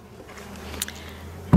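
Honeybees on honeycomb inside a beehive give a faint, low buzz throughout, ending in a brief louder burst close by.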